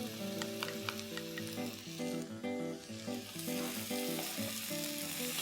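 Finely chopped, peeled tomato sizzles in a hot pan, a steady close frying crackle with light stirring, no voices.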